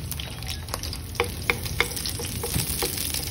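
Salted garlic fries in a pan for a pork and young corn stir fry, a dense close sizzle with a few sharp utensil taps and scrapes spaced through it, with no voices.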